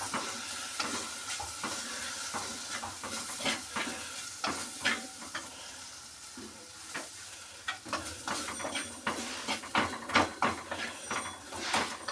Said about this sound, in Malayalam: എണ്ണയിലിട്ടൊന്ന് നമുക്ക് വറുത്തെടുക്കാം